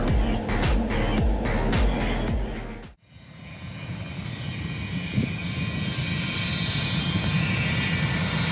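Steady, loud jet engine roar aboard a Boeing Stratotanker during military in-flight refueling, heard continuously after a brief cut from a different busy sound, with no talk.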